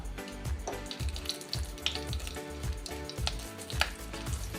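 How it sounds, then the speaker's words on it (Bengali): Nigella seeds and two slit green chillies sizzle in hot oil, a steady close crackling fry with small pops and no voices. "এবার দেব একটা ফোড়ন, কিছু কালো জিরে আর 2টো চেরা কাঁচা লঙ্কা"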